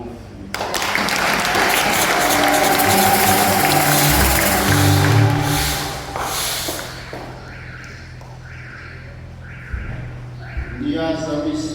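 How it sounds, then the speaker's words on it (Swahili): Congregation applause at a Sunday Catholic Mass in a parish church, a loud dense burst of clapping for several seconds that fades out, followed by quieter speech and some sung or spoken tones. "Makofi."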